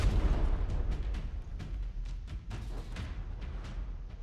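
Heavy naval cannon fire in the naval combat game From the Depths, a rolling series of deep booms and blasts close together, battering a wooden shell turret until it breaks off.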